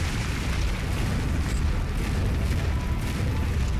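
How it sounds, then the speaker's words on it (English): A mech blows up in a real-time strategy video game, a deep continuous rumbling blast that fills the whole stretch at steady loudness with no talk over it. "Oh no, and I destroyed my own mech."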